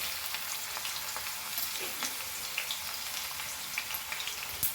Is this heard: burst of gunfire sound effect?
no